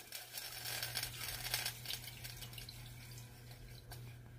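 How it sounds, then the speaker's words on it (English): Water runs steadily from a tap into a cooking pot to cover chicken for boiling, a soft, continuous splashing pour with a low steady hum beneath it. "I'm going to fill it up with some water, just enough so that it'll cover my chicken."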